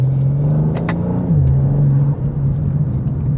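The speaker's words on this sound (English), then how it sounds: "You can hear the blow-off valve coming from like this area right here." A 2025 BMW M2 engine drones steadily up close, with its pitch dipping as the turbo spools and the blow-off valve lets out brief hissy bursts above the rumble.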